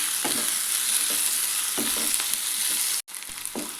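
Chopped tomato with mint leaves sautés in a pan, a steady close sizzle broken by soft scraping stirs, with a brief cut to near-silence before the frying resumes.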